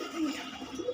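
Pigeons cooing close by, a soft low throaty coo repeating across the second with faint background noise and no talking.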